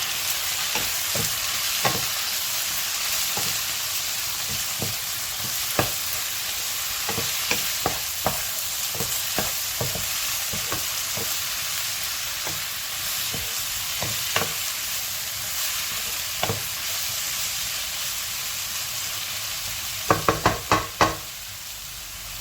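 Eggplant coriander masala with lemon squeezed over it sizzles steadily in a pan while a spoon scrapes and taps through it in scattered strokes, ending in a quick burst of clinks.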